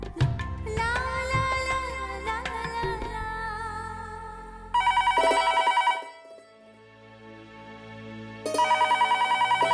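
A telephone rings in repeated bursts of bright electronic trills, separated by short pauses, loud and close with no one speaking.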